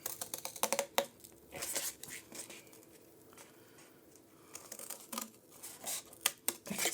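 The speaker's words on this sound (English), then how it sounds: "we can take our scissors and just cut those triangles out" Crisp, irregular snipping and paper rustling from scissors cutting paper close by, with short bursts of cuts separated by quieter pauses.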